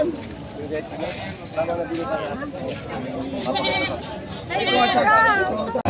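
Goats for sale at a livestock market bleat several times, mid-distance, amid constant crowd chatter and people talking nearby.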